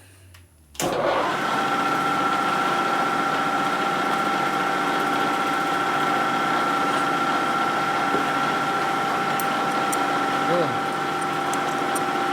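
A power drill starts up and runs steadily at a constant high whine, with a faint grinding as a reamer works through metal on a 1970s Harley Sportster kicker ratchet plate.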